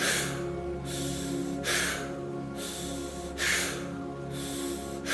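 Forceful rhythmic breathwork exhales, strong breathy bursts repeating roughly every one and a half seconds over a low steady musical drone.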